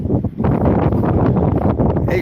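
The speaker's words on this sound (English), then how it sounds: "it's windy and it's wet, but it's not really cold" Gusty wind buffets the microphone on a wet seafront promenade, a loud, continuous low roar that swells and dips with brief gaps between gusts.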